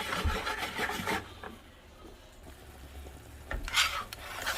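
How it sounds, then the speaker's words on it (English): A utensil scrapes and rubs across the bottom of a hot pan as chicken and sausage drippings are deglazed with Pinot Grigio, with bursts of gritty scraping at the start and end around a quieter sizzling middle. "Just to get the drippings off of the bottom of the pan."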